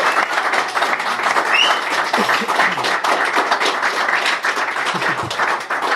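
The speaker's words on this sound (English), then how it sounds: "Please, round of applause for Alicia." Live podcast audience at the BIS clapping to welcome a guest, a close, loud, steady round of applause from a modest crowd, with faint murmurs and a brief voice sound under the clapping.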